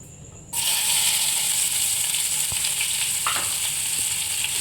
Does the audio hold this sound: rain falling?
no